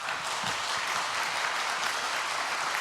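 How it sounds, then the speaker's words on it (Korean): Sustained applause from a church congregation during a Sunday worship service, dense and steady clapping throughout with no talk. "오늘도 박수 쳐주셔서 감사합니다."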